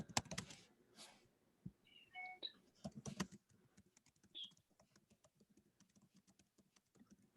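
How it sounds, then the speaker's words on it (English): Quiet, close typing on a computer keyboard, with irregular bursts of key clicks that thin into sparse taps. "I know you can probably hear me typing."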